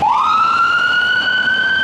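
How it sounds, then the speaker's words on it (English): An emergency vehicle siren from an ambulance and fire truck on a rainy Toronto street, a loud sustained wail that rises and then holds steady, near and alone with no talking. "We got the ambulance and the fire going."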